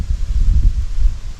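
Gusty wind blows through a garden bed of large conifers in the Polish countryside, a steady low rushing roar with buffeting surges, close to the microphone and heard alone.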